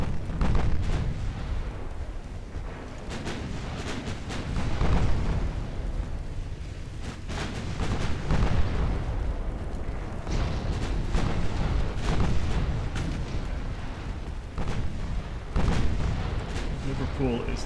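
Naval gunfire in a warship battle from the video game Ultimate Admiral Dreadnoughts, a dense, continuous barrage of booming artillery shots and rumbling blasts, loud and overlapping throughout.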